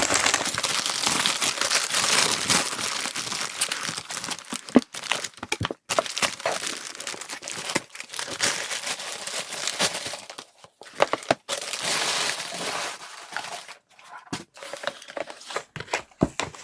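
Ink bottle packaging is unboxed up close, with loud, irregular crinkling and crackling of paper and plastic that comes in bursts with brief pauses.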